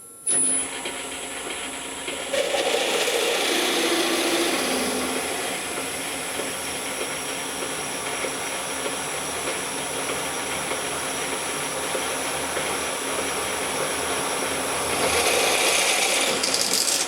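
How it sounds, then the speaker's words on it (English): A jobber drill cutting with oil through steel into a scrap aluminium block beneath: a steady, loud mechanical whir and grinding that runs continuously for the whole stretch, swelling slightly near the end. "it's just drilled through into this scrap aluminium block that was sitting underneath it"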